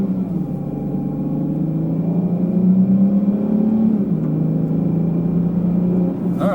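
A 2018 Dodge Challenger SXT driven in sport mode, its engine holding a steady, loud mid-pitched drone that rises slightly in revs, close and continuous with no talk.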